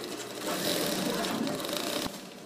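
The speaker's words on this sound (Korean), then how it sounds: "현수막을 정성껏 자르고 재봉틀로 열심히 박음질합니다." A sewing machine stitches cut-up waste banners with a dense, steady mechanical whirring rattle, close and continuous throughout, ending with a brief clunk.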